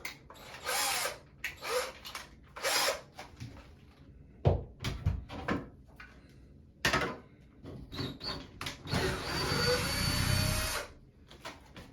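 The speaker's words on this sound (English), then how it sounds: "I'm going to drill 2 1/4-inch holes where I just marked those." Bursts of a power drill whirring in short and longer runs, drilling quarter-inch holes for floating shelves, with a few knocks and clatters between them, fairly close and quiet overall.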